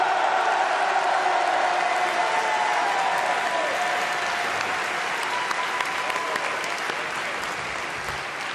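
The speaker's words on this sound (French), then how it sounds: "Je vous demande également un tonnerre d'applaudissements pour Julien Madar et Jonathan Nadler." A crowd at a political campaign event applauds in a thick, sustained burst of clapping that fades slightly over several seconds.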